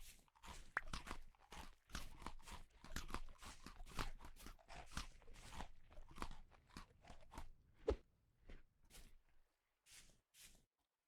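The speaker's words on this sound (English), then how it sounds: "Chewing sounds a whole lot like a cow or a horse." Chewing in the video game Vintage Story comes as a long series of crisp, crunchy bites, irregular but rapid, close and faint, without talk, before fading out.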